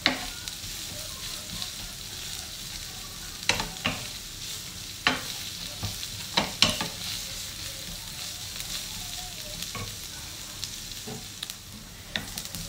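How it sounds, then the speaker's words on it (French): Sliced onions frying in a pan with a constant sizzle, broken by sharp stirring clacks and scrapes from a utensil at irregular intervals, close and clear. "ومن بعد غادي نضيفوا له الشرائح ديال البصل ونخليوها تقلى"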